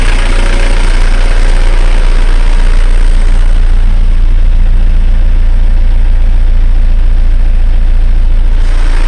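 An Isuzu Panther diesel engine idles with its RPM raised, a loud, steady, close rumble with continuous vibration and a faint knock throughout, no voices.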